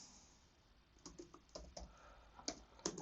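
Keys tapped on a computer keyboard while a password is entered to log into a TP-Link Archer Air5 repeater's web interface: a faint, irregular run of soft clicks over quiet room hiss, busier toward the end.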